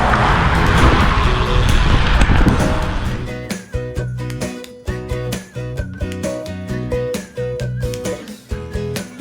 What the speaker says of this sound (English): Get in a little Jeep and ride in the dunes.